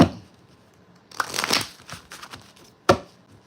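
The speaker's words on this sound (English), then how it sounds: "One more time. One more shuffle." A close-up tarot deck is shuffled in papery rustling bursts, including one longer riffle and a sharp final snap of cards.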